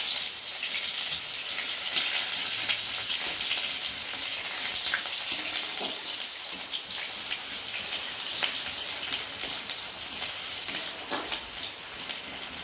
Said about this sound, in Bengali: এখন দিয়ে দেবো কাঁচা পেঁয়াজ।